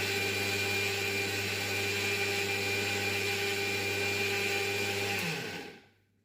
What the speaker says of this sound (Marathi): आता मिक्सरच्या भांड्याला आपण झाकण लावून घेऊयात आणि याची मिक्सरवर होईल तितकी बारीक पूड करून घेऊयात